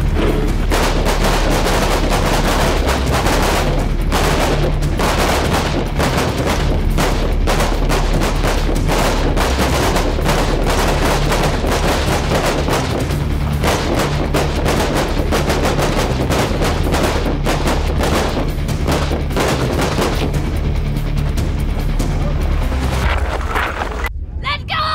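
Rifle shots ring out at an outdoor shooting range as shooters fire from standing, kneeling and prone positions, a dense run of sharp, loud cracks with some wind noise on the microphone and voices now and then.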